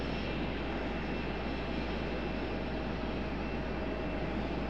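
A jet airliner's engines roar steadily at an airport runway, a constant loud broadband rumble with no breaks and no talk.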